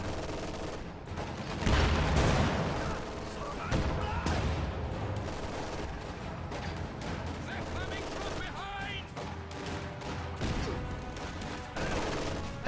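In a video game battle, machine guns rattle in repeated bursts while shells boom and crash, a dense, busy barrage that continues throughout.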